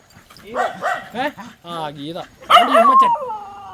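A puppy yips and whines close by in several short bursts, its cries rising and falling with brief pauses between them.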